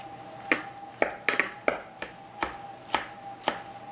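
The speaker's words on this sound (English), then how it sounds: "So let's go ahead and cut this up." A knife cutting through a no-carb cheese lasagna against a board, about eight sharp, evenly spaced taps over a few seconds, close and clear without talk.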